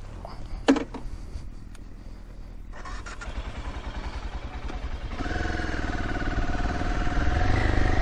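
A 1996 BMW F 650 motorcycle engine runs steadily and rises in loudness as the bike pulls away and accelerates, with a brief clatter near the start, no talking.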